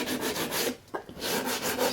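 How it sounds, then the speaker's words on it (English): Sanding block rubbing back and forth along the plank edge of an HO scale model building, close scraping strokes in a steady rhythm with one brief pause. "we're going to sand this edge, the plank edge, back to get that angle"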